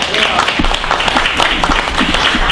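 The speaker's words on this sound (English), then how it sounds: "Can we give him a big round of applause?" Audience applause at a music and storytelling show fills the room as a dense, steady burst of clapping close by, with voices faintly mixed in.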